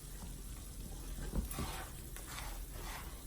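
Cube steak sizzles and browns in a hot pan, a steady close crackling fry with a soft scrape partway through, no talking.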